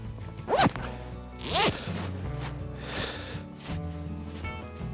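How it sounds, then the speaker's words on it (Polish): A zipper pulled shut on a small pocket of a heated fishing garment, with two or three quick rasping zips standing out clearly over faint background noise. "Zasuwam zamek błyskawiczny."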